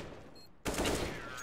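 Burst of rapid gunfire from a video game erupts suddenly after a brief quieter moment, loud and dense, continuing to the end of the short clip.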